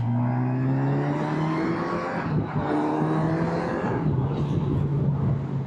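A 2025 Kawasaki Versys 1100 motorcycle accelerates to overtake on an open road, its engine note climbing through the revs in rising sweeps between gear changes, loud and steady under wind noise.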